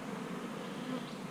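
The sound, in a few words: honey bees buzzing at a beehive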